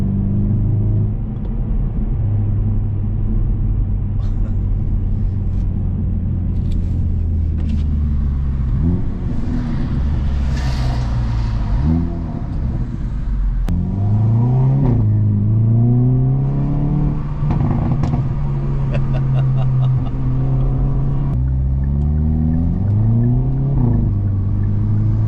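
A 2023 Hyundai i30N with a DCT gearbox heard from inside, a steady engine drone that climbs and drops through several revving downshifts, loud and continuous with no talk.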